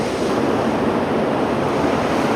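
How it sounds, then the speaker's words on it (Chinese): A loud, constant roar of rushing water fills the space, a dense steady wash of waterfalls echoing inside a cave. "这个洞里面都是瀑布，而且这个水流声超响的"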